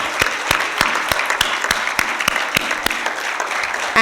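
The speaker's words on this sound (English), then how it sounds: "let us give a big round of applause to the outgoing team" An audience at a change-of-guard ceremony applauds the outgoing team, with sparse, distinct hand claps in a fairly regular rhythm over a light background murmur.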